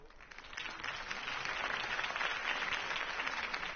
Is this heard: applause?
yes